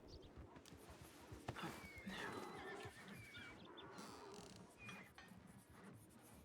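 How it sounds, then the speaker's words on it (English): A donkey brays in a roleplay video game, a faint, strained call rising out of steady ambient noise with some soft hoof-like clatter around it. "Was that a donkey?"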